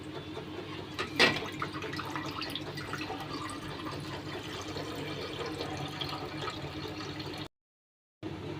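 Water poured into packet milk in a pot on a kitchen stove makes a continuous close liquid splash and gurgle. A brief dropout near the end breaks the sound.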